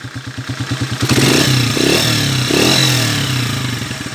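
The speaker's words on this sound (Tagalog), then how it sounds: "Medyo may ingay na rin yung timing gear." A 155 motorcycle engine idles with a rhythmic chug, then revs twice, a clattering mechanical rattle from a noisy timing gear running underneath throughout.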